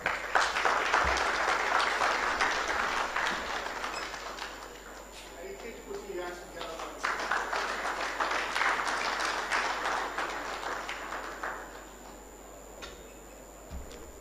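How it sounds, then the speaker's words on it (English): Audience applause at a health workforce dialogue on pre-service training institutions, a broad patter of clapping that swells, dips and returns before fading toward the end. "Some of you are acting like someone would ask you to pay for every clap you're making."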